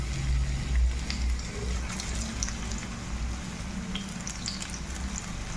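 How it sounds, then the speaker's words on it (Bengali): Jackfruit koftas frying in hot oil, a steady close hiss and crackle that carries on evenly, with small pops scattered through it and no voices. "তেলটা গরম হয়ে গেছে, এবার এইভাবে বানিয়েছি কোপ্তাগুলো তেলের মধ্যে ছেড়ে দেবো"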